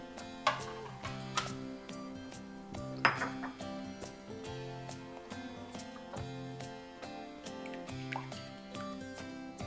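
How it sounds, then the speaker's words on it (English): Eggs being beaten in a bowl produce quick, rhythmic clinks and ticks of a utensil against the bowl. The clinking is fairly faint and continuous, with background music playing underneath. "I'm going to go ahead and beat these eggs"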